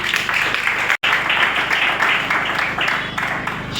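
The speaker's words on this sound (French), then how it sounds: "et je vous prie d'applaudir." An audience at a formal ceremony for the presentation of participation certificates claps in a dense, continuous burst, broken by a momentary dropout, with a voice faintly present underneath.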